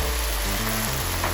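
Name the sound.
meat and mushrooms stir-frying with chopsticks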